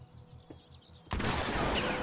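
Gunfire in the survival horror game The Quarry: a quiet stretch, then an abrupt loud blast that swells into a sustained, dense roar of shots and reverberating noise through the rest of the moment.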